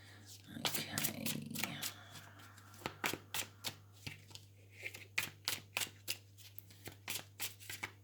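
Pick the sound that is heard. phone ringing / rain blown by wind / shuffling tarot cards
shuffling tarot cards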